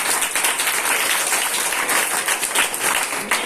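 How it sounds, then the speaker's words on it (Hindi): Loud, dense audience applause at a Teachers' Day school program, steady clapping filling the whole stretch with slight swells and no pauses. "पर जोरदार तालियां होनी चाहिए।"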